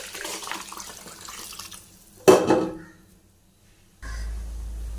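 Water poured into a pot of rice, ghee and yogurt for cooking: a brief splashing pour that rises and fades, followed by quiet and then a low hum.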